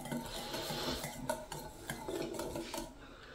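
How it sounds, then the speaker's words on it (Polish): Spoon stirring mustard, salt, turmeric and spices into a homemade chicken meat mixture, a steady series of close scraping and wet mixing strokes with light clinks against the bowl, no talking. "Trochę to wymieszajmy."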